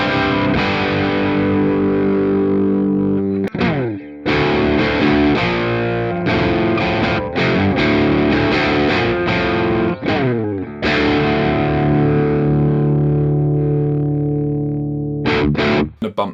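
Distorted electric guitar through a Marshall Valvestate 8100 amp on its boost channel, bridge pickup, playing loud sustained chords and riffs with brief gaps between phrases, close and alone with no talking.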